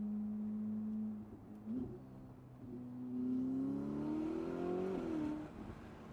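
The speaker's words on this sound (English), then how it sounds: "we're in the SF90 right now. The fastest car I've ever driven." A Ferrari SF90 engine of about 1,000 horsepower hums and rises in pitch as it accelerates, a smooth rising drone heard from inside the car, with no talking.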